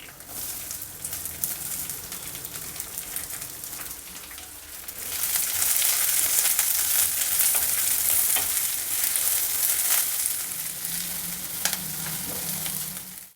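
Onion, green chilies and curry leaves fry in a pan while being stirred. A moderate sizzle with scraping swells louder midway, then settles to a steady close hiss without speech.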